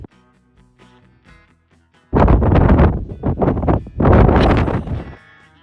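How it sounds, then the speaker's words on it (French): Strong gusts of cold wind buffet the microphone on the Maine coast, loud roaring bursts that come and go in waves after a quiet start, with no speech. "C'est venteux."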